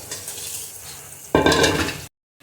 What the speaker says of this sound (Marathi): बघा डाळीची फोडणी मी दिलेली आहे